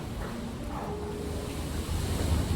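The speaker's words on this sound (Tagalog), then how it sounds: "Oh my God, lakas ng hangin." Strong typhoon wind roars in a steady, dense rush with a slight surge near the end, with no voices over it.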